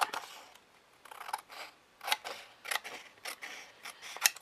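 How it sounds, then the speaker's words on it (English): Large scissors snip through paper in a series of irregular crisp cuts, close and quiet, with short gaps between snips and no talk. "And I will just first of all cut it with the large scissors."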